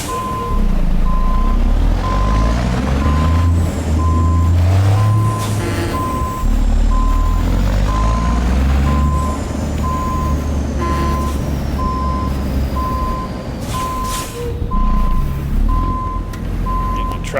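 Reversing beeps from an International Lonestar truck in American Truck Simulator ring out in a steady repeating pulse over a loud, continuous diesel engine rumble and air hiss, with someone talking throughout.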